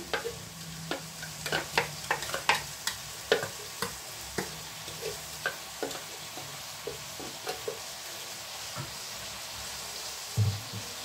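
Chicken liver and onions frying in a pan, a soft background sizzle punctuated by repeated sharp ticks and pops, with a few utensil knocks spaced irregularly across it.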